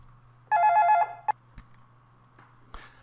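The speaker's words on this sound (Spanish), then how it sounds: "Me van a perdonar ahí el sonido del teléfono" A telephone rings once in a short electronic burst, followed by a few faint clicks and taps over a low steady hum in a quiet room.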